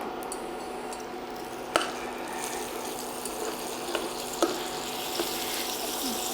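Butter drops into hot browned caramel with cashew and almond slices over a low flame, giving a soft steady sizzle broken by a few sharp ticks and crackles.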